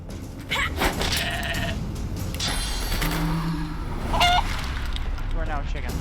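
Video game sheep let out several short, nasal bleats in close succession, loud and near, with a few honk-like cries mixed among them.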